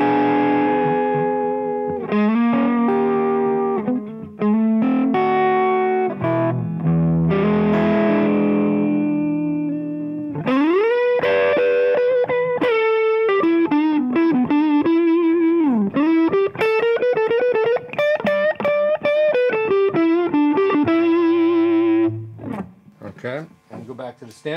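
Bluesy electric guitar through a germanium Rangemaster treble booster, a warm, slightly driven tone playing continuous licks with bends and sustained notes, loud and up front, no talking.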